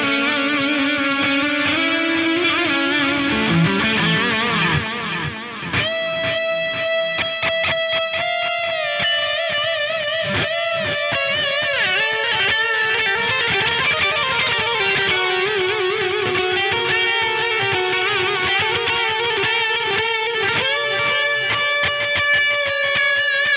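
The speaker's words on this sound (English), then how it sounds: "You want to take that stereo effect way over the top, try the surround delay." Electric guitar played through the surround delay effect of a Fractal AM4 amp modeler, sustained notes and chords trailing into lush, repeating echoes that swirl on continuously and loudly for over twenty seconds.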